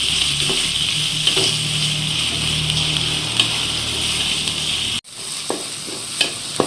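Chopped onions frying in a pan for Kerala-style beef roast give a steady, loud sizzle with stirring scrapes. A sharp cut near the end drops it to a quieter sizzle broken by a few utensil clicks.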